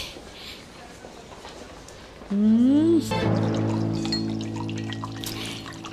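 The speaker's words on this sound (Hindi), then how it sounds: "ये मैं आपको एक गिलास पानी देती हूँ" Water is poured into a glass at close range, a brief rising gurgle of filling lasting under a second, followed by a steady tonal hum.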